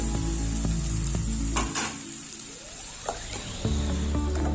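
Tamarind, curry leaves and coriander sizzle in hot oil in a pan while being stirred, a steady close frying hiss broken by scraping and clinks of the spoon against the pan.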